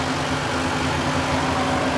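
A 90 hp tractor engine runs steadily while pulling a 10-foot super seeder, a loud continuous low drone with a constant hum and no breaks.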